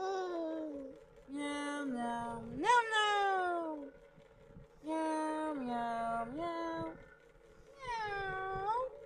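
A cat meows again and again, close and fairly loud, with rising and falling drawn-out cries in three bursts separated by short pauses.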